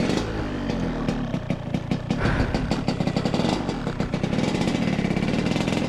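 A Yamaha RX King motorcycle engine runs close up, loud and steady with a rapid two-stroke popping rhythm and repeated small revs throughout.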